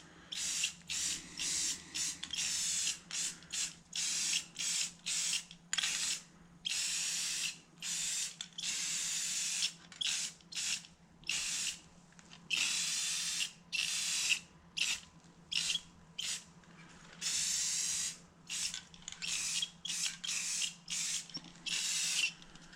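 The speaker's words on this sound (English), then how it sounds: "Spray it on there pretty thick and it kind of smooths itself" A spray can lays a light coat of paint on a part from a 1973 Chevy C10 pickup, in a long series of short hissing bursts with brief gaps between them, close by and steady, with no talking.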